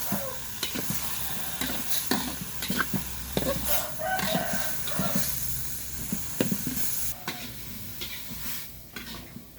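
Young jackfruit stir-fried in a pan for a spicy dish with eggplant and chili, close sizzling with repeated scraping and clanking strokes of a spatula, and a rooster crowing faintly in the background.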